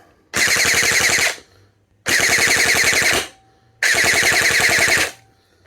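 Jing Gong JG109 MC51 compact G3-style airsoft gun, faulty, firing full auto in three rapid bursts of about a second each, a fast mechanical buzz of roughly ten rounds per second with short pauses between bursts, close and loud.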